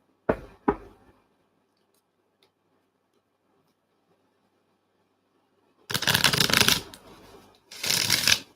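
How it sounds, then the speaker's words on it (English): Tarot cards are riffled and shuffled in a few quick bursts, two brief snaps early on, then a longer close flurry followed by one more short shuffle. "Let me just shuffle."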